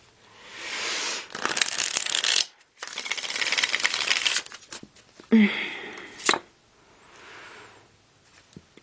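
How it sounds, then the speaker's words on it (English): Tarot cards being shuffled close up in bursts of riffling and slapping, two long rustling runs followed by shorter clacks and a softer shuffle, with no talking. "One more shuffle, they say."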